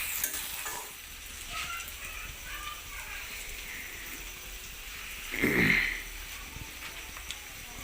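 Ghugni frying in a pan in a home kitchen gives a steady, close sizzle with stirring throughout, a brief louder burst partway through, and faint voices in the background.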